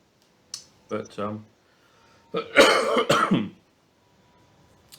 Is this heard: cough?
yes